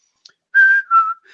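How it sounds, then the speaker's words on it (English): A person whistles a simple two-note musical interval, a sustained clear tone sliding down to a lower held note, close and alone in a quiet room. "So I can go in and whistle"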